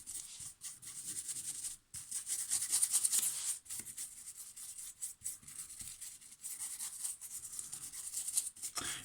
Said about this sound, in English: It's like a heavy dry brush that goes into the cracks